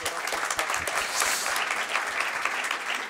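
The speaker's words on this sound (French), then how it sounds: "je pense qu'on peut l'applaudir." An audience at an audio industry event in Paris applauds, a dense, steady wash of many hands clapping that fills the whole moment without pause.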